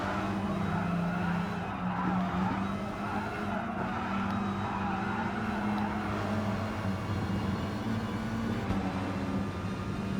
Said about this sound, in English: I went ahead and went with the Scirocco because I know it's just a beast